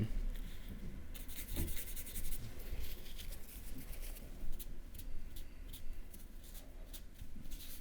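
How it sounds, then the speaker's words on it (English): White paint is rubbed into a painting, producing a soft, continuous scratchy rubbing with small irregular strokes, close and fairly quiet. "Just rub that in, just use a bit of zest with that"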